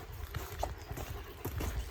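Horses walking nearby on a socialising walk alongside a greyhound, hooves clip-clopping in a steady, unhurried rhythm of soft repeated knocks over outdoor ambience.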